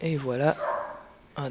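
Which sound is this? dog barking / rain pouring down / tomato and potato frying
dog barking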